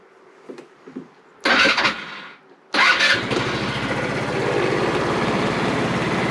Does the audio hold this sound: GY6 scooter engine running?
yes